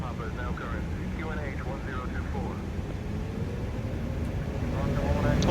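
A ToLiss A330neo in X-Plane 12 on its takeoff roll out of Oslo, the jet engines giving a steady broad roar that swells louder toward the end.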